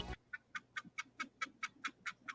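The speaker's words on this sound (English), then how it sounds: "It sounds like chickens in the background." Chickens cluck in a quick, even series of about ten short calls, fairly faint and steady, with no one talking.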